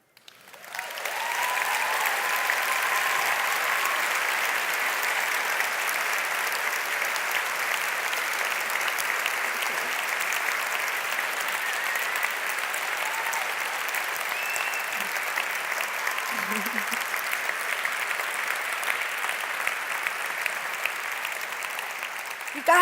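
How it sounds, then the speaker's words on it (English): Sustained applause from a large audience at a keynote talk, dense and steady for over twenty seconds, rising quickly at the start and holding at a full, even level throughout. "No more clapping, okay?"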